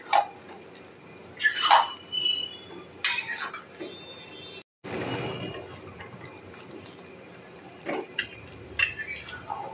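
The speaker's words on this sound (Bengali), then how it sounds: "আর দিয়ে দেব একটু গরম মশলা। ভালো করে নেড়ে চেড়ে দেব।" A spoon stirs jackfruit curry seasoned with garam masala in a pan, making scattered metallic clinks and scrapes at irregular intervals over a quiet background.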